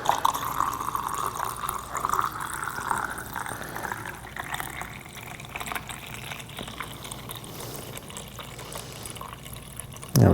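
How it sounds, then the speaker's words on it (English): Monobath developer liquid is poured gently into a B&W film developing tank, a close gurgling, splashing flow that is strongest at first and then tapers to softer trickles. "grab your monobath, open it up, and simply pour it into the tank"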